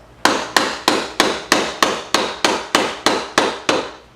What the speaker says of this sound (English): I hammer towards the bottom part of the handle